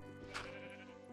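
Over continuous game music, a Minecraft sheep lets out a single short bleat near the start.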